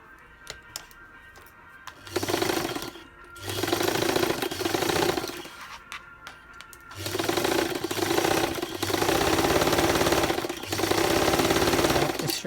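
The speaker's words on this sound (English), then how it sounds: "So let's go to the sewing machine and let's sew this sleeve together." Close sewing machine stitching a knit sleeve seam with a thin seam allowance, several bursts of rapid whirring stitching broken by short pauses, loud and with no talking.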